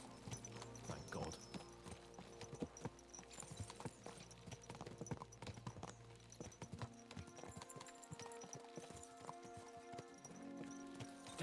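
Horses galloping in Kingdom Come: Deliverance II, a steady rhythmic clip-clop of hooves running continuously at a close, moderate level over a soft outdoor game ambience, with no voices.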